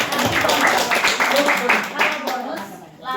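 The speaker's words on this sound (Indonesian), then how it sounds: "Berikan tepuk tangan untuk Gali." Audience clapping at a business presentation for a new plan, a burst of hand claps running throughout under a presenter's voice and crowd chatter.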